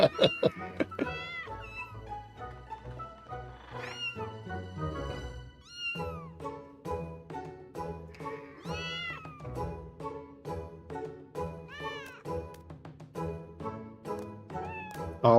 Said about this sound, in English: All the kitties.